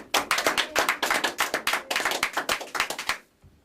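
An audience claps for a band at a San Diego show. Dense, brisk clapping fills the space for about three seconds, then quickly dies away to near silence.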